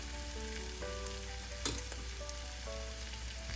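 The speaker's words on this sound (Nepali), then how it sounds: "2टा मिडियम साइजको टमाटरको प्युरी लिएको छु मैले, त्यसलाई राखेँ" Tomato puree from two medium tomatoes sizzles in a pan, a steady soft frying hiss with a brief stir or spatter partway through, quiet and without talk.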